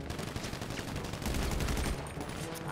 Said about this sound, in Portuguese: Eu tô tomando tiro também.